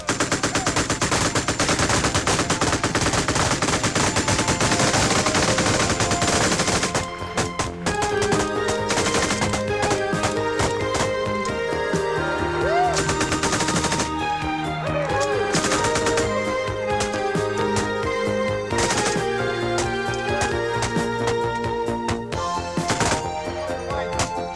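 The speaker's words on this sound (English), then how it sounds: "What are we going to shoot at? Shoot at the fire." Gunfire rings out at a 1986 combat shooting tournament, dense rapid bursts of shots early giving way to scattered, spaced reports with ringing echoes, loud and close, without speech.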